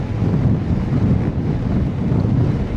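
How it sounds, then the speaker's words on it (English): Strong headwind buffets a road cyclist's microphone, a loud, continuous low rumbling roar with gusty fluctuations and no speech. "this amount of miles into this strength of headwind"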